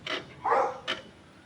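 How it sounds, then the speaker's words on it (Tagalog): A dog barks in short bursts near a riverside fishing spot, three quick yaps with the middle one loudest and most tonal, over a faint outdoor background. "Oh, nagwawala pa yung aso diyan ng mga malaki."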